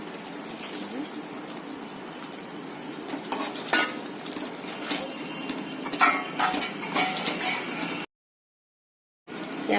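Okra dropped into boiling gravy in a pan, with bubbling sizzle and clinks and scrapes of a spoon stirring, fairly close, then a brief moment of total silence before the sizzle returns.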